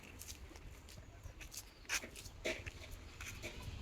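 Dogs heard faintly outdoors, giving a couple of brief, soft yips or whimpers over low background noise.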